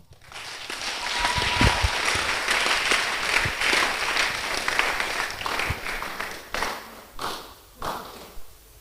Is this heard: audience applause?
yes